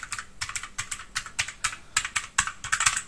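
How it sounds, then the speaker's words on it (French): Calculator keys are pressed one after another in a quick, uneven run, each one a crisp click close by that sounds like a typewriter. "Et écoutez le bruit qu'elle fait. Elle fait le même bruit qu'une machine à écrire"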